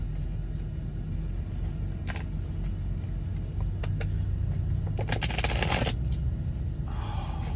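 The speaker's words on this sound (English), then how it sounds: "Let me pull on some other cards and see what else comes out." Tarot cards are shuffled and drawn, giving a few brief papery riffles and snaps over a steady low rumble in the background.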